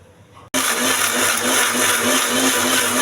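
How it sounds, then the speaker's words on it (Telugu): A mixer grinder jar blends cooled mint and roasted chana chutney ingredients with a little water. After a brief quiet start it whirs up abruptly into a loud, steady, close grinding drone. "ఇవన్నీ మిక్సీ జార్లో వేసుకోవాలండి. కొద్దిగా వాటర్ వేసి మిక్సీ వేసుకోవాలి."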